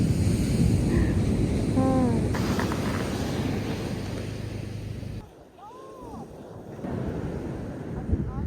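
High-tide ocean waves wash onto an Australian beach, a continuous rolling surf under heavy wind buffeting on the microphone, with faint brief tonal chirps along the way.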